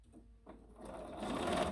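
A sewing machine stitches a quarter-inch quilt seam on a Variable Star sampler block, its motor starting partway through and running in a steady, close whir that grows louder toward the end, with no talking.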